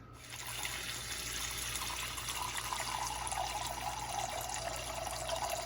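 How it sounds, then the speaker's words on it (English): Tap water runs steadily into a small cooking pot, a continuous hissing pour at close range with no talking. "I usually get a smaller pot, like that size, not too big, right? And then fill it up with water."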